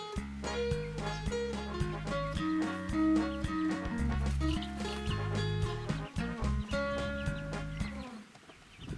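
Backyard hens and chicks cluck in a garden, a busy run of short repeated clucks and calls close by, fairly quiet overall, with no speech.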